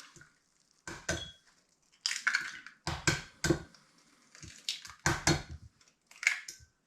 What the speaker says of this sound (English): I'm going to get cracking with my eggs.